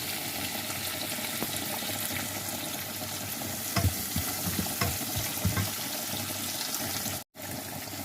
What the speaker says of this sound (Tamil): இது வந்து தாளித்து போடுறது. தாளித்து போட்டால் டேஸ்டாக இருக்கும்